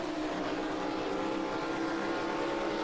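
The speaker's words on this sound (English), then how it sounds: "I think you hear a car right behind him," Race car engine on the COTA circuit in a racing video game, a continuous steady droning roar at constant loudness with a car close behind, no talk.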